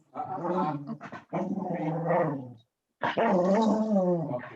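A person imitates a dog's growl, giving voiced, rumbling growls in two long stretches with a short pause between, close and fairly loud with no other sound.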